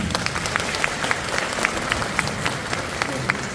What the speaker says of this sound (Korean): 교보자산신탁의 최진영 대리님께 다시 한번 박수 부탁드립니다.